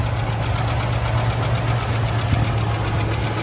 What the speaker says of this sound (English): You can hear that clacking, that's what we gotta fix.